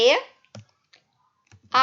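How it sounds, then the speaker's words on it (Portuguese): Mouse clicks while building an Android online game store project in an IDE, a few brief soft clicks separated by silence, with short bursts of Portuguese talk at the start and end. "Vou dar 2 cliques."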